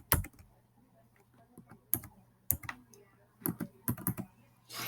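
Someone types on a computer keyboard in irregular clusters of sharp, close key clicks separated by short pauses, with no talking.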